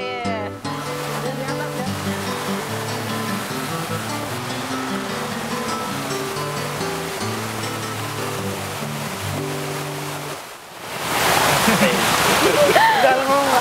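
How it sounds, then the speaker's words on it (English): A waterfall in Yogyakarta, Indonesia, with low water volume in the dry season, gives a steady broadband rush that swells louder and closer near the end, with other sound layered over the water earlier on. "So I guess I'll just enjoy the moment of this beautiful waterfall."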